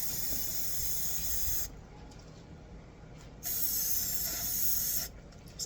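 Coconut sheen spray being sprayed, two bursts of steady close aerosol hiss, each lasting over a second, separated by a short pause, with a faint word spoken.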